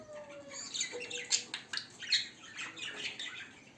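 Budgerigars chirp and squawk in quick, scattered bursts, fairly faint, with a soft background hiss.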